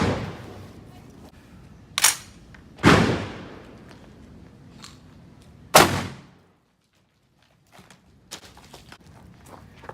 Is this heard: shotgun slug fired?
yes